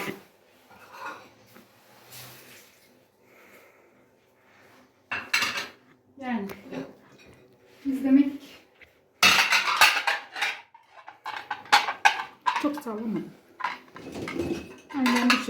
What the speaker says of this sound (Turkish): Makineme yerleştiriyorum bulaşıklarımı.